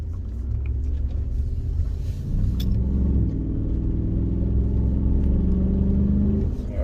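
A Chevrolet Silverado pickup, damaged after hitting a deer, drives and accelerates, giving a steady low engine rumble that swells slightly as it pulls away, heard from inside the cab with no talking.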